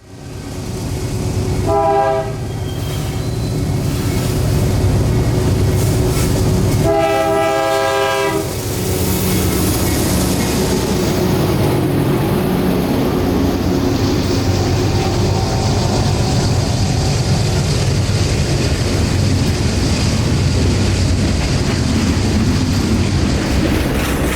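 An 11,500-foot freight train hauled by two AC4400CW locomotives climbs a grade, loud and continuous rumble with two sustained horn blasts early on, then steady rolling wagon noise throughout.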